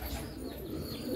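Crested pigeons on a farm coo softly in low, rounded murmurs, close by with light background noise.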